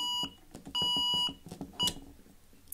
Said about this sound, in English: the relay is still active and the sounder is still sounding